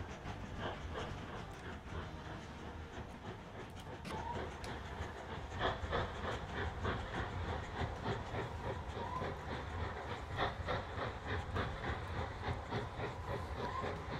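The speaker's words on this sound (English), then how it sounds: "Hey, a lumber train." A lumber train rolling along the tracks in the railway game Mashinky, a steady rumble with soft clickety-clack wheel beats and faint hiss throughout.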